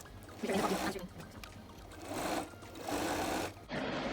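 A sewing machine stitches along the straight edge of an old bedskirt being remade into a sundress, running in three or four steady bursts with short pauses between them, close and clear with no talking.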